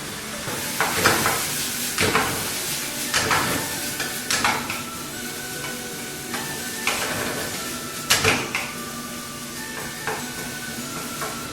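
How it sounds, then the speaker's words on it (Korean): Onion and zucchini stir-fried in a wok for Chinese jjajang sauce: a steady loud sizzle runs throughout, broken every second or two by scraping clatters of the utensil against the pan, with no voices. "다음으로 준비된 야채를 양파와 애호박을 넣어서 볶아줄게요."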